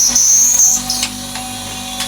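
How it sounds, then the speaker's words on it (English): A small jewelry pearl-drilling machine working on a clamped pearl: a high, thin whine for the first moment, then a lower steady mechanical hum with a few light clicks, no talking. "and simply drill the pearl."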